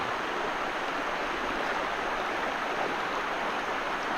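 Creek water rushes steadily over rocks at a trail creek crossing, a constant close wash of noise with no voices.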